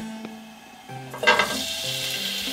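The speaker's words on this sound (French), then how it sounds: "La poêle est chaude. Un peu d'huile. Pomme parisienne." Pommes parisiennes, small potato balls, frying in hot oil in a pan: a steady sizzle that swells briefly as they go in, with no voices.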